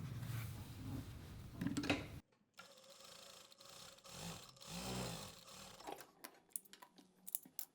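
A sewing machine stitches fabric in short runs: a louder burst of mechanical whirring at first, a brief pause, then quieter humming and rattling stitching that stops and starts toward the end.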